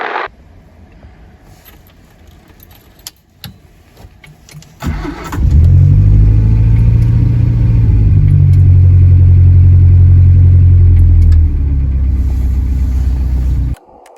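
A Series MM Morris Minor engine is cranked after a few quiet clicks and catches around five seconds in, then idles loudly and steadily with a brief rev bump before settling and shutting off near the end.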